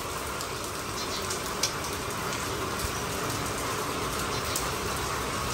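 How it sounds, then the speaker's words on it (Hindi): Rain beginning to fall, a steady dense patter of drops on surfaces with a fairly even hiss and no one speaking. "बारिश अभी स्टार्ट हुई है"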